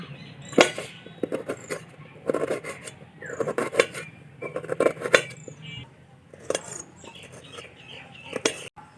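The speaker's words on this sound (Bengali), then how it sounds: "পেঁয়াজটাকে এরপর খুব ভালোভাবে কুচো কুচো করে নেব।" A knife finely chops an onion on a board, giving quick clusters of sharp taps in uneven bursts with short pauses between them, close and crisp.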